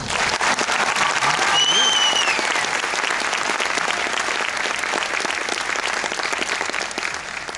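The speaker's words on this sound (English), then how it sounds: "Round of applause for Jared." Audience applause at a graduation speech, a dense, loud, sustained wash of clapping with a brief cheer or whistle early on, tapering slightly toward the end.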